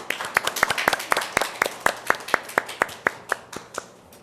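Audience members at a policy forum on suicide prevention clap to welcome a presenter, a small group producing distinct, evenly spaced claps in a steady rhythm that gradually slows and fades.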